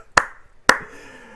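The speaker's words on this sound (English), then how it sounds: "give yourselves a round of applause" Two sharp, separate hand claps close to the microphone, about half a second apart, each ringing briefly in a quiet room.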